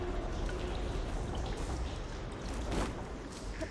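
Water flows and pours through pipes in a room in Horizon Forbidden West, a steady rushing wash with faint trickling detail, moderately loud and unbroken.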